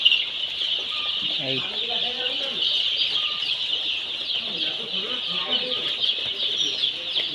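Chickens and chicks on a poultry farm on a hot day give scattered soft clucks and chirps beneath a constant high insect-like drone, with some wing flutters and faint voices in the background.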